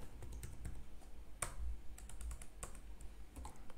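Quiet, steady tapping on a computer keyboard while text is typed into a PowerPoint slide, close irregular clicks with one sharper keystroke partway through.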